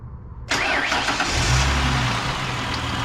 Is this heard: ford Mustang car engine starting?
yes